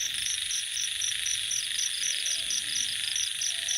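Frogs call outdoors in a rhythmic, evenly pulsed chorus blended with a dense, steady insect-like trill, a constant natural night ambience at moderate level with no voices.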